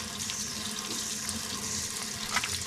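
A tap runs steadily into a sink during handwashing, giving a continuous close splashing rush with small surges as hands move under the stream.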